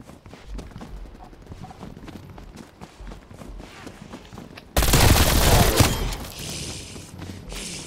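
Running footsteps and light game noise in Call of Duty: Black Ops Cold War's Outbreak mode give way to a sudden, loud, sustained burst of gunfire partway through, continuing to the end.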